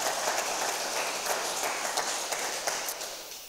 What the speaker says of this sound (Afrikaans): Geef haar weer aan een klap.